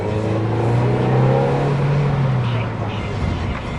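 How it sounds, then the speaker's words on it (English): The engine of a 2012 Ford Fiesta SES hatchback revs high and loud during a test drive, its pitch rising then easing off, with road and wind noise underneath. "Pretty high revving engine"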